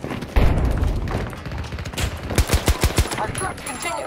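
Rapid automatic gunfire from a new season 1 weapon in Battlefield 2042 rattles close and loud, a dense burst followed by distinct spaced shots with sharp booming cracks.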